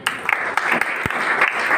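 Brief burst of audience clapping at a government school event in India, steady dense applause from a gathered crowd.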